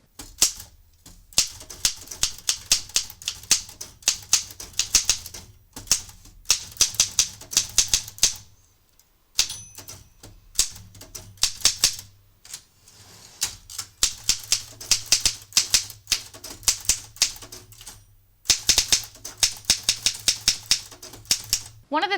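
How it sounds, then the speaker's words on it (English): Brisk typing on a Hermes Ambassador typewriter with plastic keys, a dense run of sharp mechanical key strikes in quick bursts broken by short pauses, loud and close. "Here's a quick little sample of my type test."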